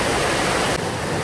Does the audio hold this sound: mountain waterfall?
yes